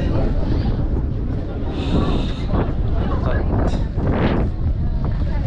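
Strong wind buffets the microphone at the top of Dharahara tower, a loud, rough rumbling roar with gusty swells, while people talk over it.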